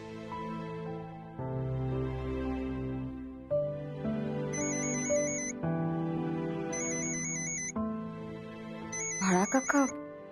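A phone ringtone sounds in a Marathi TV serial scene, with a repeating electronic melody over a sustained musical background and a brief burst of sound near the end.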